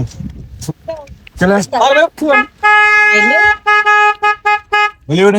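Repeated short vehicle horn toots, sounding like a garbage truck horn, blare loud and close between people chatting during a bike ride in rainy Ooty.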